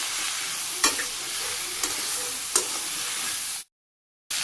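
Onion stir-frying with dried chili powder and turmeric powder in a village kitchen: a steady close sizzle broken by three sharp spatula scrapes, then a sudden cut to silence before the frying returns, no speech.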